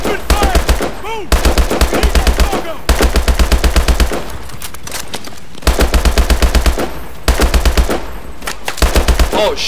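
Call of Duty Advanced Warfare gunfire, loud rapid machine-gun bursts repeating in several long volleys with short gaps between them, close and heavy.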